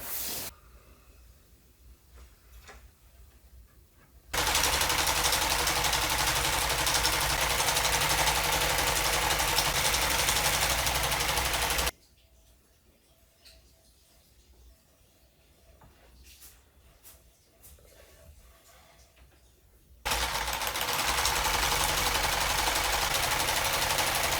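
A sewing machine hems the edge of a bedsheet being made into a camping tarp, running in long, loud, steady mechanical bursts separated by quieter pauses.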